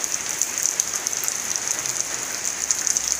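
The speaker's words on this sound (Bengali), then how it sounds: "কি বৃষ্টি নামলো" Rain falls steadily, a fine even hiss of drops pattering on surfaces, moderately loud and unbroken throughout.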